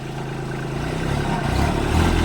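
A new tractor's engine revs up steadily, a low mid-pitched drone that grows a little louder and rougher over a couple of seconds, running alone with no voices.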